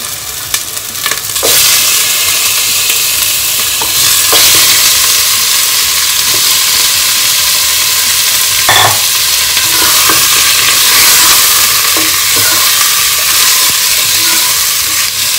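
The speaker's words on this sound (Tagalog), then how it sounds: "Igigisa po natin siya hanggang medyo mag-brownish." Pork sautéing with onion, garlic and ginger for a pochero sizzles loudly and steadily in the pan, with stirring scrapes and clatters breaking through the constant hiss; no voices.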